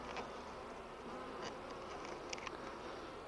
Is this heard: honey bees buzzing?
yes